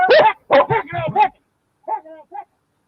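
A police dog barks during a roadside traffic stop in Georgia: a quick run of five loud, close barks, a brief pause, then three softer, smaller yips.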